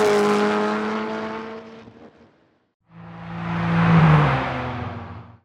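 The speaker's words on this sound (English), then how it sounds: "We want a car that's going fast, and we also want to hear the sound of the engine to make it feel powerful." A fast car with a powerful engine, as an AI-generated sound effect, roars past twice: a loud revving whoosh that fades out, a brief silence, then a second pass swelling up and trailing away.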